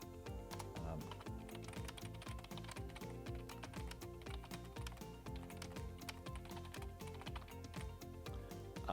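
Rapid, uneven keystrokes on a computer keyboard as a question is typed, clicking steadily for several seconds over a continuous tonal background.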